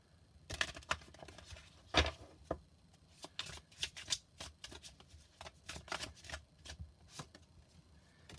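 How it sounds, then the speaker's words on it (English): A deck of tarot cards being shuffled by hand close up, soft riffling and flicking bursts with irregular taps and snaps, quiet and without talk. "Let's give them a shuffle."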